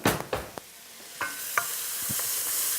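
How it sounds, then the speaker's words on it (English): Onions in butter sizzle in a saucepan while being tossed and stirred, with several sharp spoon scrapes and clanks over a steady frying hiss. "So you just want to give your onions a nice toss. Get them all nice and coated in that butter."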